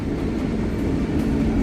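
A train pulling into a station in Tashkent, Uzbekistan at night, a low steady rumble of wheels and engine that holds close and even for a brief moment, with no voices.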